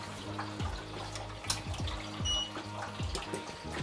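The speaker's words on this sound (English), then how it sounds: "I'm just going to put some water in using hot water" Hot water pours into a home-brewing kettle during equipment cleaning, a continuous splashing stream with gurgling and a few sharp clinks, fairly close and moderate in level.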